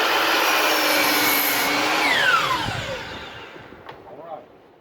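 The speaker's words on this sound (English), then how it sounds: "Cross cutting you do on the miter saw." A miter saw cross-cuts wood for raised garden beds, giving a loud, close, whining cut that lasts about two seconds before the motor winds down, and a voice is heard briefly near the end.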